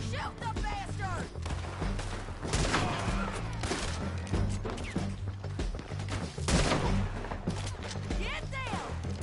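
Gunfire in the video game Red Dead Redemption II, with dense, loud bursts of shots and crashes in a chaotic firefight over a low musical drone, with voices heard in the mix.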